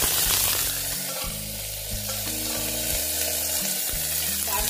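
Mustard seeds and curry leaves sizzle and crackle steadily in hot oil for a dhokla tempering, a loud continuous fry with a low background tone and no talking.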